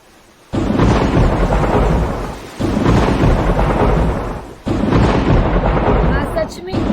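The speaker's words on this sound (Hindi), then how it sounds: "कितनी अच्छी बारिश हो रही है ना।" Heavy rain roars in three loud, sustained waves with deep rumbling thunder underneath, each surge starting abruptly and tailing off before the next.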